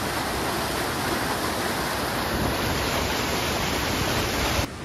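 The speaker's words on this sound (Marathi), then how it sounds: "आमच्या व्हाळावरती ना यो धबधबो असा मस्त पैकी दाखवतोय तुमका जरा." A small forest waterfall on a stream, running low after little rain, pours with a steady, dense rushing hiss from close by, unchanging until it cuts off abruptly at the end.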